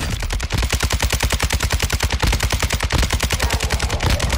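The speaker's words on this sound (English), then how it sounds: "I'm landing back on him with a pistol" Pistol gunfire in the video game Warzone 2.0 rings out as a loud, fast, unbroken string of evenly spaced shots, close and with no talking.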